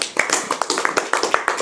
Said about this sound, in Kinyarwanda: Rero mumbera amashyi Mutabazi